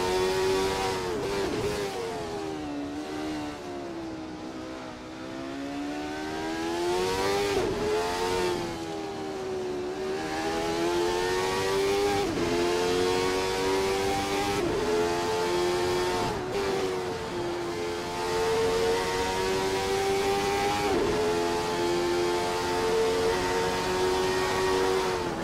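Jordan 191 race cars lapping Spa in a racing sim, with a steady, loud engine note that rises and falls through gear changes and corners for the whole stretch, with no talking.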